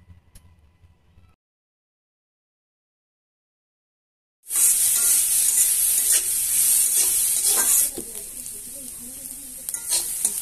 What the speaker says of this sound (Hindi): अब हम प्याज डालेंगे, साथ में डालेंगे गाजर और मिर्ची